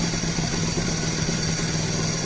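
A Honda NSR250R two-stroke motorcycle fitted with a Jha expansion chamber exhaust idles at just under 1500 rpm, a steady close, even burble with no talking over it.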